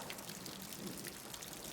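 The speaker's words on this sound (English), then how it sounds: "As the rain falls tonight" Soft, even rainfall at night, a faint continuous patter with no other sounds.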